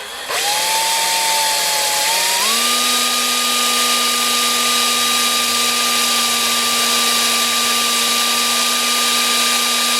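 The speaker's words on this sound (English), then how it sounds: "Now I'm just going to drill this thing by hand" A power drill with a 1/8 inch bit whines steadily and loudly, its pitch rising once as it speeds up, then holding a constant high tone while boring by hand into a railroad spike.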